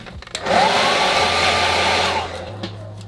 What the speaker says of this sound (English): Last with the hairdryer again.